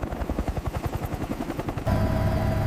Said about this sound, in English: The powerful rotor wash creates turbulent conditions as the helicopter maintains position above the